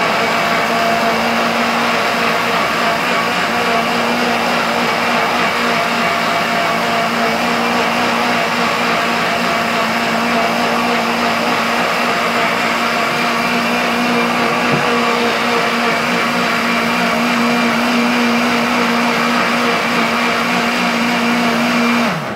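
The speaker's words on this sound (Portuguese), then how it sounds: "Colocamos tudo no liquidificador." A countertop blender runs steadily for over twenty seconds, loudly whirring as it blends a detox juice of fruit and vegetables with two glasses of water, its motor tone holding constant with no talking.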